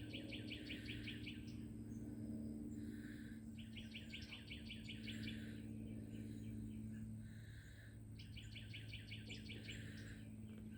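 Outdoor birdsong of rapid chirping trills arriving in three separate bursts, set against a constant background drone and a faint insect buzz, with no talking.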